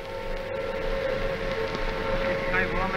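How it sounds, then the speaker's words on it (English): World War II air raid sirens sounding over Trafalgar Square in London during the blackout, a steady sustained wail holding across the whole span amid a dense background rumble. "The noise that you hear at the moment is the sound of the air raid sirens."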